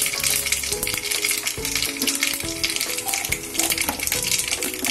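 Mustard seeds, cumin, turmeric and asafoetida hit hot oil and sizzle loudly and continuously up close, with crackling pops and light metallic stirring against the pan throughout.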